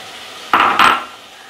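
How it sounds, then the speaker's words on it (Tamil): Green beans tipped into a cooking pot with tomatoes and curry leaves for broken wheat bisibelebath, two quick clattering drops against metal, close and fairly loud, followed by quiet. "இப்போ நம்ம பீன்ஸ் சேர்த்துக்கலாம்"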